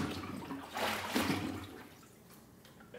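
Water pours and splashes into a container holding a turkey in brine, a close, rushing trickle that swells in two louder bursts before easing to a quieter dribble.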